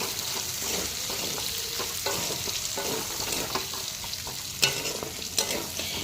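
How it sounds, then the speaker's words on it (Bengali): Capsicum frying in a pan while being stirred, with a steady broadband sizzle and repeated scraping strokes of a spatula, close and fairly loud, with no talking. "ক্যাপসিকাম দিয়ে একটু ভালোভাবে নাড়িয়ে নেব।"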